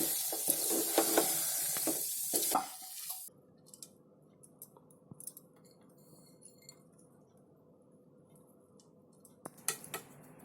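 Ragi flour mixture stirred in ghee in a pan, giving a brief sizzling, scraping burst of spoon against metal for a few seconds before fading into a quiet room tone with faint clicks.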